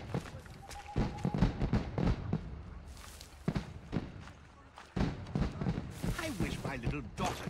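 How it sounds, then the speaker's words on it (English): Fireworks bursting in the sky in Assassin's Creed Rogue, scattered pops and crackling thumps at uneven intervals, fairly distant, mixed with voices talking and ambient crowd noise. "Those fireworks are truly impressive, I must say."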